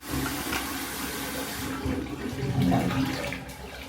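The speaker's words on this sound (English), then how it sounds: "This hotel is so old that you can hear the water going down the pipes." Water rushing down the pipes of an old hotel, a continuous gurgling flow that swells and surges midway, heard steadily throughout with no talking.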